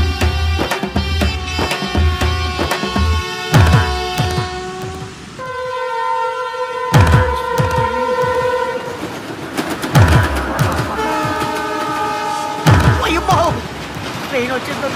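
A train rumbles past close by with rhythmic wheel clatter, and its horn sounds several long blasts over the rolling noise.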